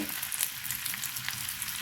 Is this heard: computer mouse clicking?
no